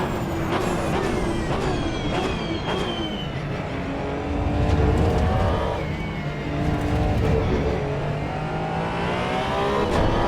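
A race car engine in Assetto Corsa EVO at Spa is held in third gear, roaring loud and close with rising and falling revs and tonal whine, no talk over it.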